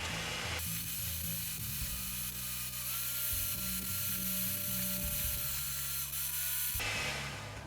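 A handheld electric mixer beats egg whites for a pumpkin roll, starting abruptly and then whirring steadily with a rattling, mechanical drone that shifts slightly in pitch before cutting off near the end; no talking.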